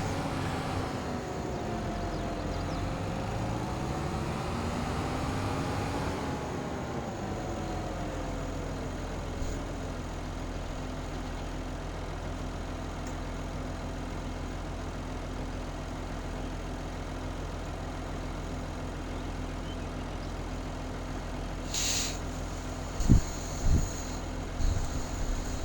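A farm tractor engine in Farming Simulator 22 drones steadily and close. Its pitch swells and falls early on, then settles into a constant low hum, with a few short thuds near the end.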